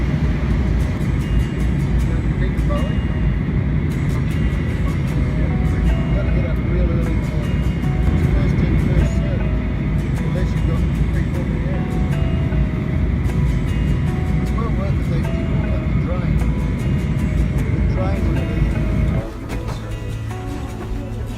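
A Virgin Australia airliner cabin bound for LAX gives a constant loud drone of engine and air noise throughout, with a person talking over it.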